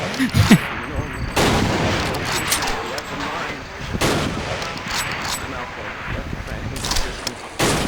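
Gunfire in the game Sven Co-op, with repeated loud shots and bursts of firing spread through the stretch while people talk over it.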